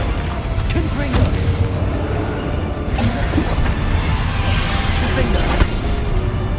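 Confringo fire blast spell cast during Hogwarts Legacy combat: dense, continuous battle noise with whooshes and soft booms throughout, loud and busy, with a voice briefly present.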